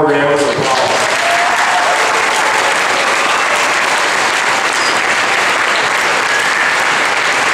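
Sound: audience applause for a choir at a school event

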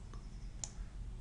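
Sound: pressing Ctrl Z on a computer keyboard

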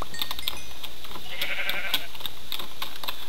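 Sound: sheep bleating in the Minecraft video game

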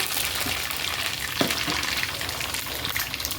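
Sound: mustard seeds frying in oil in a pan

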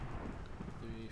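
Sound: rain and thunder in a video game

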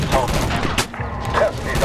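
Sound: gunfire in video game Medal of Honor

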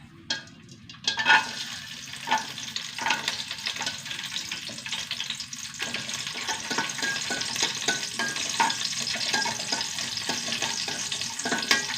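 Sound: frying cashew nuts in ghee

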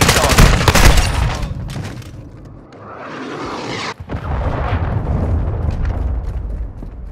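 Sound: cruise missile strike and gunfire in Call of Duty: Modern Warfare II video game

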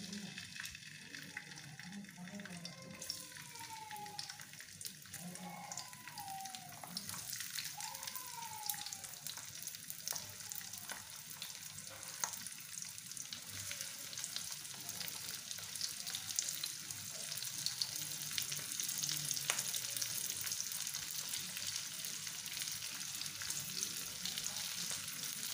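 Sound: chopped onion and garlic frying

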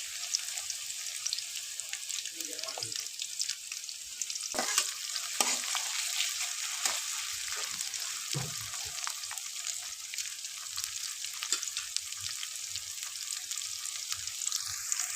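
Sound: chopped onions frying in a pan

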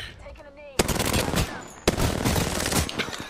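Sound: gunfire in the video game Apex Legends

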